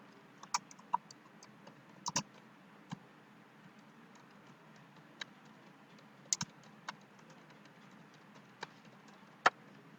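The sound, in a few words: typing on a computer keyboard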